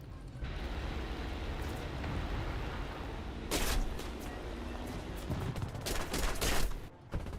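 Gunfire from an enemy ship in a naval combat video game: a steady rumbling battle backdrop broken by several sharp bursts of shots, with a cluster of louder blasts toward the end.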